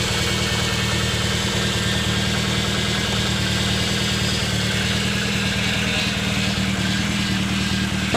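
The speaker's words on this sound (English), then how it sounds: "That's a pretty awful sounding power steering pump." A Toyota AE86 engine idles steadily with a low rumble and a harsh mechanical whine from a failing power steering pump, an exhaust leak present, continuous throughout with no talking.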